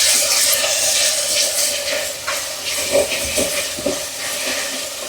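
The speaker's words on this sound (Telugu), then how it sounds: "నిదానం వేగుతాయి అవి." Food sizzles in a pan with ginger paste added, a steady loud frying hiss filling the clip with faint crackles and pops along the way.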